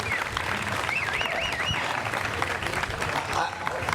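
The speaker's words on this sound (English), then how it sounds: "Please give them a round of applause." Audience applause at a stadium plaza unveiling and dedication ceremony, steady clapping from a crowd sustained throughout, with a voice speaking over it.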